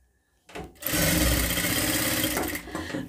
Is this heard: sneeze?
no